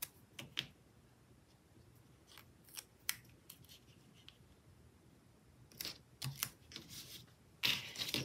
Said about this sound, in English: I'm just going to trim off the extra and use it across the other way.